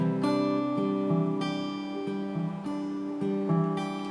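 Acoustic guitar fingerpicking the continuing pattern of a song's accompaniment, plucked notes sounding in an even rhythm with chord changes, close and clean, no talking.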